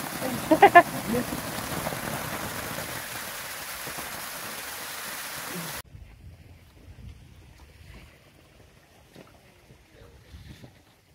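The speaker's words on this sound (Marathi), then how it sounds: "पावसात ना मस्त गरम पाणी." Rain falling in a Konkan village, a steady broadband wash with a brief louder burst near the start, then cutting to a much quieter scene with faint scattered sounds.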